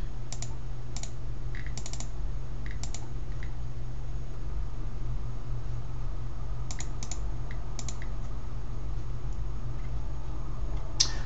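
Keys clatter on a computer keyboard in short clustered bursts of typing, separated by pauses, over a steady low machine hum.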